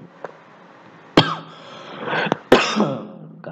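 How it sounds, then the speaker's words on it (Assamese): Someone coughs in a few sharp, close bursts, with quieter breathy throat sounds between them and nobody speaking. "একদম কাহ হৈ আছে"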